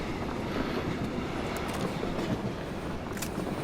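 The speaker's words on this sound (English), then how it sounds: "we're going to use this train to get us into the circle" A moving train in the battle royale video game PUBG rumbles with a steady, dense low roar that holds the same loudness throughout, without speech over it.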